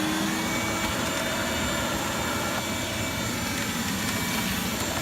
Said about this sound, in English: we are about to activate the vacuum.